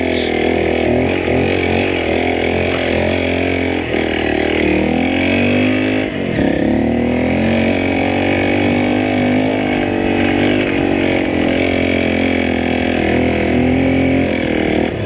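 A Honda CRF dirt bike climbing a steep hard enduro slope, its engine revving loud and close with continuous high strained drone and brief dips as the throttle shifts.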